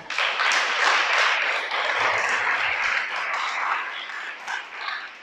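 Applause for the Creator rises from a congregation during a Shabbat sermon, a sustained wash of clapping that stays loud and even before tapering slightly near the end.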